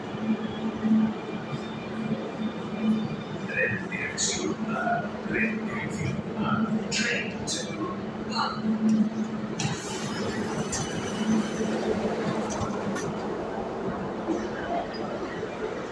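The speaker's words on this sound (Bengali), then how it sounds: "এখন অবশেষে আমার মেট্রো চলে এসেছে" A metro train in Spain pulls in and rides on, a sustained low rumble with rhythmic wheel thumps, hums and brief squeals, fairly loud and close throughout, with no voices on top.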